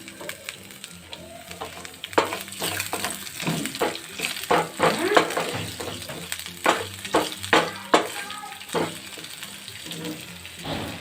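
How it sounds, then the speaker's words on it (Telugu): Cumin and mustard seeds sizzle and crackle in hot oil in a pan for curd tempering, with busy popping, stirring scrapes and clinks throughout, and a voice faintly present in the background. "జీలకర్ర, ఆవాలు వేస్తున్నాను."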